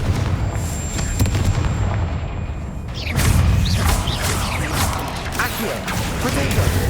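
Fiery Confringo blast spells explode in a magical duel, a series of sharp booming bursts with crackling debris and whooshes, several impacts layered over a rumbling battle din.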